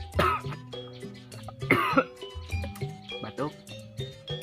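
A man coughs and clears his throat several times in close, rough bursts, with brief pauses between them.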